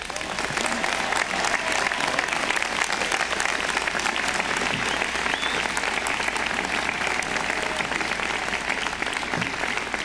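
A large audience at the 2005 Stanford University commencement applauds to welcome speaker Steve Jobs. The clapping is sustained, dense and loud, holding at a steady level for around ten seconds.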